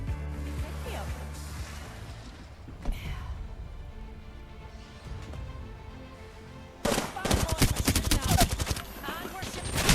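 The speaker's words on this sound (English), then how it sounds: "I started my rotation into Gardens when I heard the sounds of shots nearby" Rapid gunfire erupts nearby in Apex Legends, a dense burst of sharp shots in the final seconds after a quieter stretch of distant pops and game ambience, loud and close.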